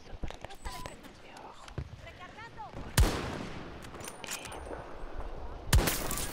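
Two sharp sniper rifle shots ring out in Battlefield 2042, about three seconds apart, each a loud broadband crack with a short tail, over low game ambience and quiet talk.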